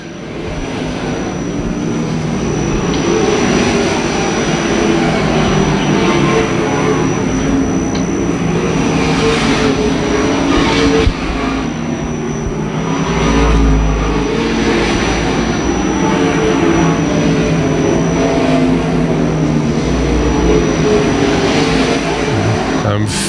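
Lucas Oil modified race cars at Tucson Speedway roar in a dense, steady engine drone from a pack running side by side, with a race commentator talking over the noise throughout.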